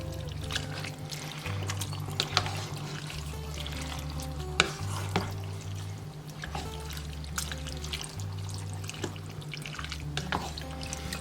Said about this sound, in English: But right now, let's mix.